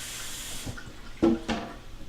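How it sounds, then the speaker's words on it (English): Brief running tap water as a cutting board is rinsed in a kitchen sink during goulash prep, a soft splashing flow with a couple of short louder bursts and clunks near the end. "Gonna rinse off our cutting board."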